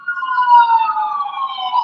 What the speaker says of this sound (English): that's the ambulance that's making all the noise there